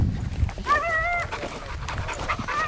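A female hunting dog pants steadily up close during a wild boar hunt, giving a few faint whimpering tones over outdoor background noise.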